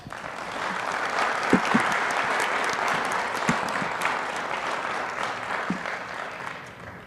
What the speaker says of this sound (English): please give Kristen a round of applause